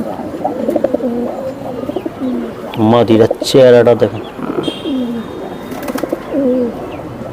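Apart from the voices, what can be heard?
Giribaj pigeons cooing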